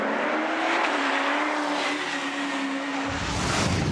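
A Super 2 touring race car locks its brakes, the tyres skidding and squealing loudly in a sustained screech under the drone of racing engines, the engine noise rising sharply toward the end.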